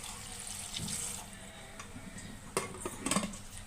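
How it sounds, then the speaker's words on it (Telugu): Water is poured into a pressure cooker holding tomato pieces, onion and coriander, a faint splashing trickle followed by a few sharp clinks of metal vessels. "ఒక టూ గ్లాస్ వాటర్ వేసుకుని మనం కుక్కర్ పెట్టేసుకుందామండి"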